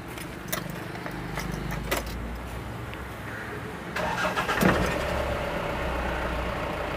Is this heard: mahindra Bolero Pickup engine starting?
yes